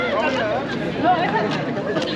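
Party crowd chattering outdoors at night in Ushuaia, a steady babble of many nearby voices without pause.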